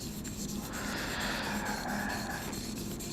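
Dagger-shaped knife drawn steadily across an aluminum oxide abrasive sharpening stone, producing a continuous soft rasping scrape, close and fairly quiet, with no speech.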